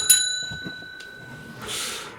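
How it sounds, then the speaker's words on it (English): A bright bell ding rings out and sustains as a steady tone, followed by a soft breathy rush near the end; no talking. "ring the bell"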